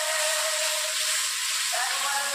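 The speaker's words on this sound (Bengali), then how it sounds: "একটু অল্প করে জল দিয়ে দিচ্ছি।" Water poured into a hot pan of rui fish tel jhal sets off a loud, dense, unbroken sizzling hiss that holds steady for the whole moment, close up, with no speech.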